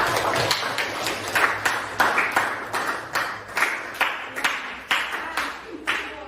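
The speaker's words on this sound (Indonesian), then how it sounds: "Tepuk tangan untuk kelompok 2" Students in a coding and AI classroom clap in unison, a rhythmic series of about a dozen evenly spaced group claps, close and moderately loud.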